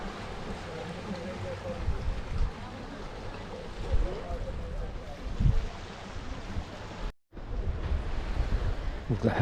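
Sea waves wash onto a beach near Side under a steady gusting wind, the surf a continuous rushing wash with a brief dropout near the end.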